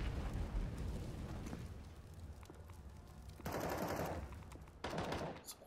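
Grenades going off in a CS:GO match, Gambit vs BIG at ESL One New York 2017, heard as rumbling bursts and gunfire-like blasts in the game audio, with two louder detonations late in the stretch.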